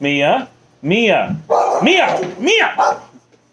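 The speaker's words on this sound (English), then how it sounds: "Dogs." A dog barks repeatedly at close range, four sharp woofs spaced about half a second apart, with some whiny, yelping tones.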